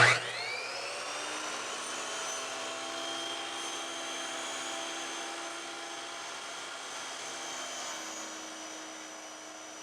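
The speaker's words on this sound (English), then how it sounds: "And I'll make my cut over down to my drilled hole." A power tool whines steadily while cutting a faux stone wall panel toward a drilled hole, a continuous close high-pitched drone after a brief start, with no talking.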